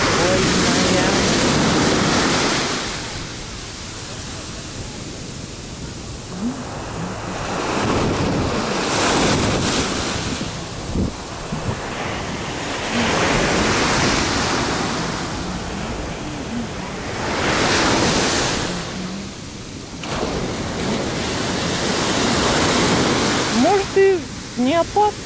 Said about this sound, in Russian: Бьют волны, не волная, прикольная.